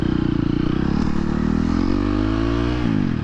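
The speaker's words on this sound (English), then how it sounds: "I like going into second gear with the clutch, but then brapping up from there." A 2023 KTM 250 XC-F dirt bike on the street revs hard and close, its engine note climbing steadily through a gear before dropping off sharply near the end, with no talk over it.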